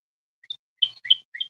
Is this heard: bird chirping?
yes